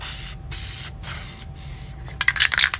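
Aerosol spray paint hissing onto metal front fender liners for a Jeep Wrangler JK, in color-matched paint, a steady close hiss broken by three brief pauses, ending in a few short sputtering bursts.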